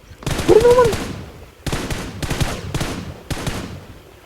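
Video game gunfire crackles in several bursts: one long volley, then three or four shorter rapid bursts that start and stop sharply. The shots are loud and near, and voices can be heard among them.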